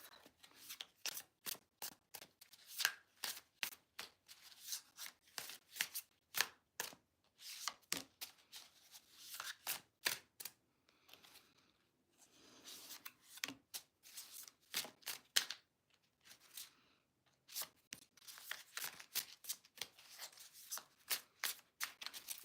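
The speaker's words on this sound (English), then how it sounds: "it's taking me a minute to shuffle" A deck of playing cards is shuffled over and over in quick, crisp riffling bursts, close and fairly quiet, with short pauses between rounds.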